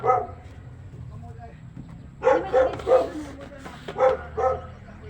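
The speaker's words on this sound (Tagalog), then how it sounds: "May aso." A dog barks repeatedly in short, sharp bursts nearby, mixed with voices talking in the background.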